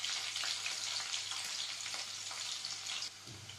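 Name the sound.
garlic frying in a pan until brown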